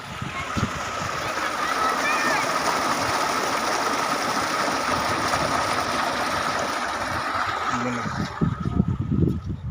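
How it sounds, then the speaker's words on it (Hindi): Water gushes steadily from a mobile-controlled pump's outlet, a dense continuous rush that holds through the clip, with some knocks and clatter near the end. "पंप हमारा ऑन हो चुका है, ये ग्रीन लाइट जलने का मतलब है कि पंप ऑन हो गया। और बाहर पानी भी, आवाज आपको आने लगी होगी, पानी भी बाहर आने लगा।"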